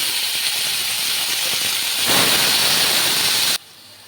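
Finely cut ash gourd dropped into hot oil with panch phoron and dried chilli: a loud burst of sizzling that swells midway and stops abruptly near the end, with no voices.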